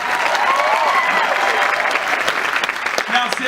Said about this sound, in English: How about a big round of applause for Celia right there?